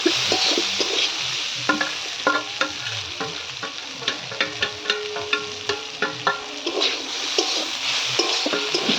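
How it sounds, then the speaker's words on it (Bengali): Vegetables frying with spices in hot oil for a vegetarian dal, a continuous sizzle broken by regular scraping stirs of a spatula against the pan, close and alone without speech. "সবজিগুলো ভেজে নেব আবার একটু মশলার সাথে"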